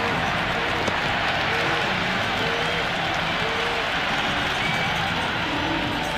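Stadium crowd in the cricket video game Cricket 26 roaring after a big six, a dense, steady wash of cheering and applause filling the whole stretch without letup.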